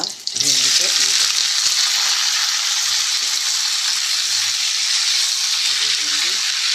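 Spices splutter and fry in hot oil, a loud, steady sizzle filling the whole stretch, with faint voice-like hums in the background now and then.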